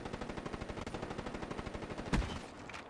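A magazine emptied in Call of Duty: Black Ops 3, a fast, evenly spaced burst of automatic shots that ends in a single heavier hit.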